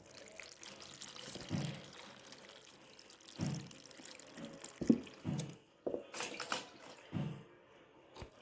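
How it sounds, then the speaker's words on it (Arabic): Pickling liquid is poured over carrots and peppers in a jar in a few separate pours and trickles with dripping between them, close and fairly quiet, with no talk. "نحط الميه دي على على الجزر والفلفل اهو"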